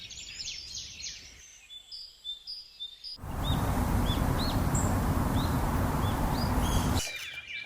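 Birds chirp and call with short, repeated notes around a night campsite beside rock dwellings, clear at first, then partly masked by a steady loud rushing noise before the calls return alone at the end.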